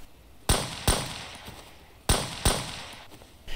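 Gunshots from close-range hip firing in the video game Road to Vostok: four sharp, loud reports in two spaced pairs, each with a short ringing decay, and a fifth shot just starting at the end.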